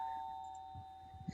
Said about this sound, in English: Oh, we've got the doorbell from producer Andy.